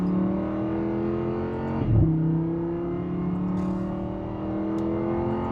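A powerful Lamborghini Huracán Spyder engine drones steadily with a quick surging rev near the two-second mark, then settles back into a smooth, loud hum.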